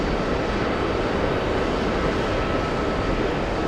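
Jet airplane taking off at JFK airport, heard as a steady, broad engine roar that fills the whole clip at constant loudness with no breaks.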